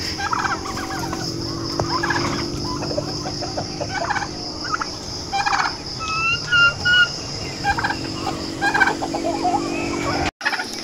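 Turkeys gobbling in a farm area, several bursts of warbling gobbles from a few birds at moderate distance, over steady background ambience with no talk.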